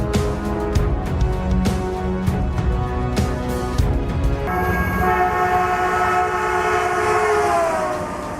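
A train approaching a level crossing, its loud horn blaring over rumbling, clattering wheels and then a sustained rushing roar as it passes close by.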